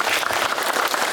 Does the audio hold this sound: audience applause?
yes